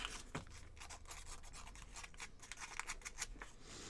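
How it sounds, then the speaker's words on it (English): Sanding a small wooden part for a handmade aviator model, heard as a steady close scraping rasp with a few sharper strokes and no talk. "which again I shall sand down"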